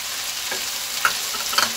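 Tomatoes added to a hot pan for chilli paneer give a steady, loud sizzle with a couple of sharp spatula clinks, and no one speaks.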